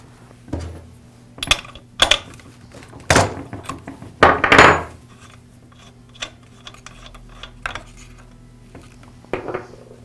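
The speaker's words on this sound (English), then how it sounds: "Now I'll remove the spark plug boot and the spark plug." A spark plug boot and spark plug come off an Echo string trimmer during a flywheel repair, heard as scattered close metallic clicks, clinks and scrapes of tools and parts in short separate bursts.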